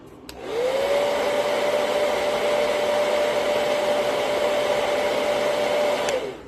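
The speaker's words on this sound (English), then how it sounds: "another little shot with the blow dryer" A hair dryer switches on and blows with a steady loud whine and airy rush for several seconds, then clicks off.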